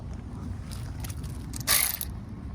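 A ratchet tightening bolts under the hood of a 2007 Lexus ES350, a steady mechanical clicking at close range over a constant background hum, with one louder, brighter burst near the end.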